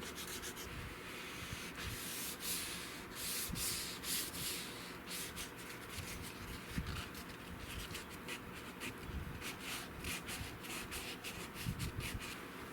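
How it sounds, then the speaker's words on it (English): Hand sanding a Cooper M38 wooden rifle stock with 220-grit sandpaper, working into tight creases and shadow lines: a steady, close scratchy rubbing of quick back-and-forth strokes that continues throughout with no talking. "Not a lot of room in there to sand."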